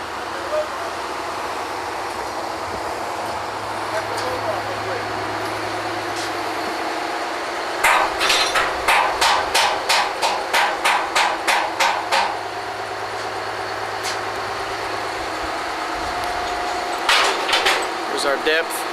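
Rig number 21, a Sand Dollar Drilling rig, works at an oil well in hot weather, a steady mechanical drone broken by bursts of rapid, loud metallic clanks, with a voice speaking over it.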